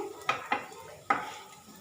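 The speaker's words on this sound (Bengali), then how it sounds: "তেল গরম হয়ে গেছে, এর মধ্যে দিয়ে দিচ্ছি 1/2 টিস্পুন পরিমাণ গোটা জিরে, চিমটে হিং।" Whole cumin seeds and a pinch of asafoetida hit hot oil in a pan, giving a quiet sizzle marked by three sharp clinking bursts from stirring, close and fairly faint.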